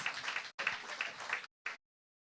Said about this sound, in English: Let's put a round of applause for all our healthcare providers.